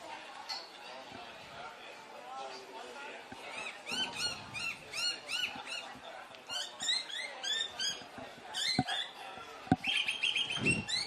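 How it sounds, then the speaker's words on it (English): A small bird perched on a flag above a commentary box at an athletics championship chirps in quick, high, repeated squeaks, close by and clear, mixed with quiet talk from commentators. "a little bird has landed on the WA Athletics flag right above us"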